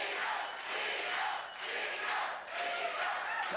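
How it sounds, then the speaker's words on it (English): A wrestling arena crowd at a Southwest Championship Wrestling match roars and chants loudly and continuously, a dense wash of voices swelling and dipping with no single speaker standing out. "This crowd is going crazy as Gino Hernandez has made an appearance."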